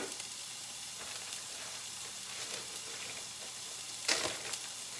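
Onions sizzle in olive oil in a pan with a soft, steady frying hiss, fairly quiet and continuous, with a brief sharper crackle near the end.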